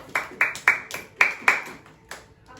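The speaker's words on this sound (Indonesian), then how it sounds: "Tepuk tangan buat Apis." A small group in a classroom gives a short round of clapping for a student, about eight sharp claps in a loose, uneven rhythm, close and moderately loud.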